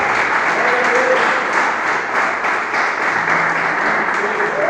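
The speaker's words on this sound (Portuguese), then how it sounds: "Você pode aplaudir Jesus por isso?" A church congregation applauding, sustained close clapping from many hands that holds steady throughout, with faint voices and shouts mixed in.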